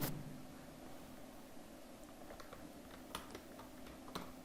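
Typing on a computer keyboard at a desk while entering text in Adobe Photoshop: a few faint, scattered key clicks over a steady hum, with no talking.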